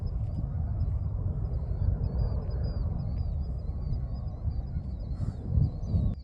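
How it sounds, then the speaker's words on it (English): A flock of geese honking near a small dock on Hart Island, repeated nasal calls overlapping in a continuous chorus over wind rumble, with a louder burst of honks toward the end. "The geese."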